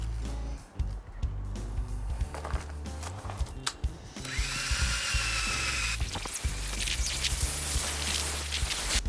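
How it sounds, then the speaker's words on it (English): A power drill with a buffing pad whirs against a car's paint, polishing, with handling knocks, then runs steadily louder and rougher for several seconds. "I've got a fluffy attachment to put on my drill."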